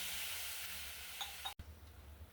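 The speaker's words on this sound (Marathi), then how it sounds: "पाण्याला मस्त उकळी आलेली आहे." Water comes to a boil in a cooking pot over sautéed ground spice paste and turmeric, ready for gram flour; a faint, steady bubbling hiss with a brief dropout partway through.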